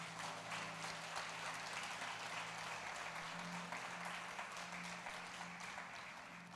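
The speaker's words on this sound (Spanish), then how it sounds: "Dale un aplauso a Jesús." A church congregation applauds in steady, dense clapping that fills the space, with a sustained low hum of music or voices beneath and a slight easing toward the end.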